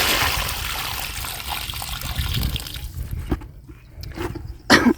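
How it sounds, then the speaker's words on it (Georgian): Water is poured into a planting hole in garden soil, giving a close trickling and splashing stream that thins out toward the end, followed by a few drips and a final splash. "ეხაც დავასხამ წყალს და ბოლოსაც"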